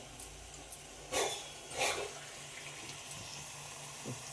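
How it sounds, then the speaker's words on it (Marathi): A small bowl of water splashes into a pan of ridge gourd bharit in two short pours, over a quiet background hiss. "आपल्याला यात थोडं एक छोटी वाटी पाणी टाकायचं आहे"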